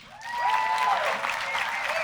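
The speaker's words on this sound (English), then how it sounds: "So there's applause." Audience applause greets a CEO walking on stage, a dense steady wash of clapping that swells in quickly and holds loud and close, with a faint whistle-like tone riding over it.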